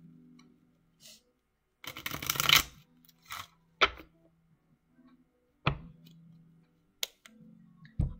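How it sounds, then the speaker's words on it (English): Tarot cards are shuffled in a few quick riffling bursts, separated by soft taps and clicks and moments of near quiet, with a low hum underneath. "let me do a couple more shuffles before I jump into some tarot."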